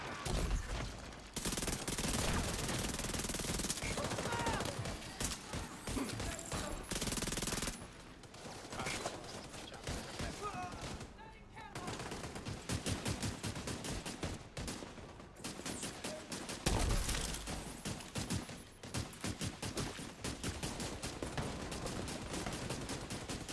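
Continuous automatic gunfire in the video game The Division 2 during a manhunt bounty. Rapid bursts and sustained volleys rattle on through most of the stretch, with brief lulls between them, against a busy background of game effects.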